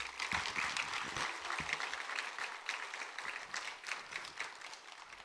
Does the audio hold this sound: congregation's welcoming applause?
yes